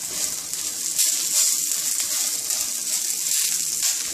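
Onion paratha cooking in oil on a pan, sending out a steady close sizzle with a few faint clicks and shifts, no voices.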